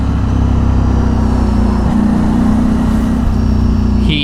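A Ducati Streetfighter V4 with an 1100 cc 90-degree V4 engine is ridden through Kochi traffic. Its loud, steady, low engine drone stays close and constant throughout, with wind noise mixed in.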